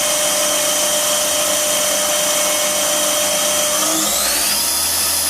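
Spindle of a KSI SQC-38 CNC Swiss-type lathe spinning up to 3000 RPM, a loud, steady mechanical whine and hum with a rising pitch near the end, heard up close with no talking.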